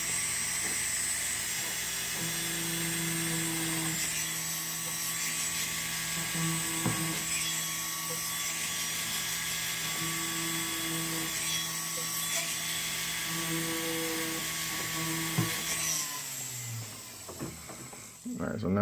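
A small drill bores holes in a metal ID bracelet nameplate, giving a steady, continuous high whine that runs for most of the stretch and then cuts off near the end.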